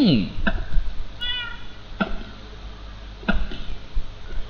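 A cat meows in the video game Minecraft, with a couple of short, tonal in-game mews standing out over background game sounds and occasional clicks.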